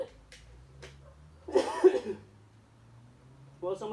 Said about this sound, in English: I just coughed all over it